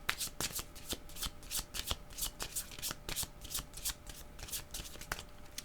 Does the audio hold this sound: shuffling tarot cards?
yes